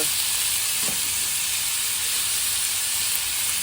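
Masala frying and roasting in a pan, a loud, steady, close sizzle that holds without a break from start to finish.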